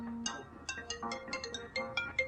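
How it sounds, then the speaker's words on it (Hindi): A phone ringtone plays a quick melodic sequence of bright chiming notes, close and clear, with no talk over it in a quiet indoor room. "फोन बज रहा है, पता है।"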